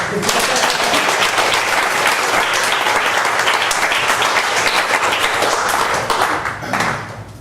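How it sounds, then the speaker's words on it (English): Game show studio audience breaks into dense, sustained applause that holds steady and loud for several seconds before thinning out near the end, with some voices mixed in. "please clap for folks there"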